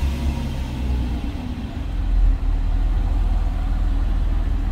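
Jaguar XJ6 engine idling after a start, a low steady rumble close by that swells briefly then settles into an even idle, with no voices.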